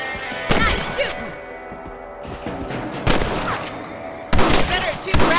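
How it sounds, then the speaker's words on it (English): Gunshots from Red Dead Redemption on PC as rabbits are hunted: several sharp, loud reports spaced a second or so apart, with ringing echo and a rolling outdoor ambience between shots. "Better at shooting rabbits than outlaws, I see."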